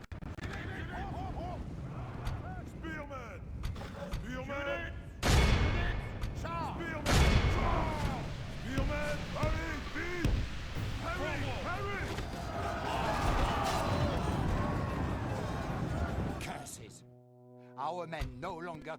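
Massed musket and cannon fire from soldiers in a Crusades-era strategy game battle around Adana and Kermanshah, scattered heavy booms and crackling volleys at middle distance mixed with shouting troops and a low horn-like drone, ending abruptly.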